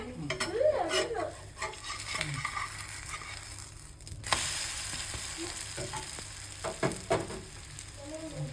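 An egg and sweet potato wrap sizzles in a pan, with utensil scrapes and clinks against the pan, a louder burst as it is flipped, then a steady fry with more light taps.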